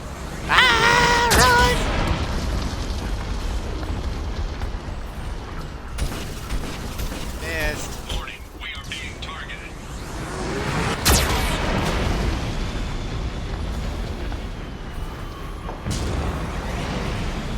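Geth cannon blasts in the video game Mass Effect 2 land in heavy booms amid clanking mechanical noise and battle clatter, several hits spread across a dense, continuous combat soundscape with occasional voices.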